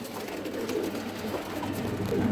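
Pigeons or doves in a small indoor aviary coo softly and continuously, low murmuring calls layered close by under a steady rustling background, with no talking.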